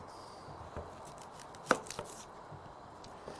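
A knife cutting carrots and onion into cubes on a board, a few scattered soft chops with one sharper knock, quiet and close over faint room noise.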